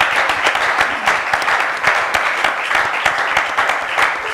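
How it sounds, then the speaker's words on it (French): An audience claps steadily and fairly loudly, a continuous round of applause with distinct individual claps and no voices over it. "je crois que je n'ai pas entendu beaucoup d'applaudissements"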